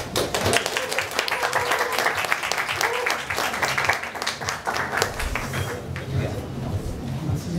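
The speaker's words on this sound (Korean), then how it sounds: "자, 큰 박수로 모셔볼게요." A crowd at a breakdancing event applauds as the lecturers come on, brisk continuous clapping with some sharp individual claps near the front, sustained and loud, with voices in the crowd underneath.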